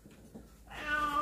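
A cat, a former stray now two years indoors, lets out a rising, drawn-out meow that swells louder in the second half after a quieter, rustling start.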